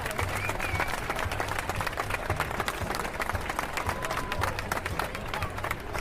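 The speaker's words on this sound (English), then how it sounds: "An appreciative round of applause." A small crowd at the finish of a Paris-Roubaix cycling race applauds a rider stepping onto the podium, giving steady, moderate clapping with a few scattered cheers over a low background hum.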